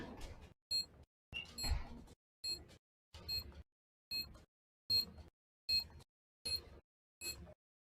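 In a tactical shooter game, a planted bomb beeps in a steady series of about ten evenly spaced electronic chirps, moderately loud with clear gaps between them.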